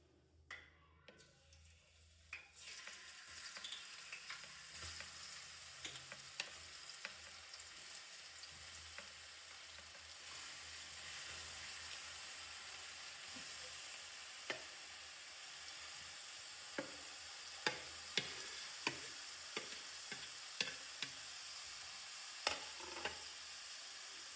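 Grated carrots frying in ghee for gajar halwa, a soft steady sizzle that swells after a quiet start, dotted with scattered crackles and pops as the shreds settle in the hot fat.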